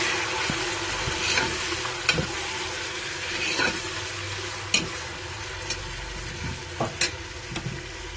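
Pieces of beef are stirred in a cooking pot for a yakhni soup, giving a soft, low sizzle with scattered scrapes and knocks from the spoon. The sound is fairly quiet and no one speaks.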